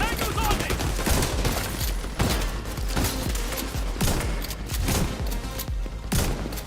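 Enemy gunfire in The Division 2, rapid bursts of automatic shots and sharp cracks repeating across the whole stretch, loud and close, with dense overlapping reports and brief pauses between volleys.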